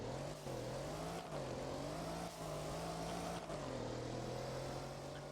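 A car engine in the Roblox game Driving Empire starts and idles as a steady, slightly wavering synthetic drone with a low hum. It plays alone and is fairly quiet, with brief dips in level.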